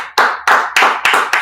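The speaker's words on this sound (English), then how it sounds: "Let's clap it up one time" Five sharp, loud claps land together in a steady, evenly spaced beat, close by and crisp, each cut off cleanly with silence between, as a crowd claps in unison on cue.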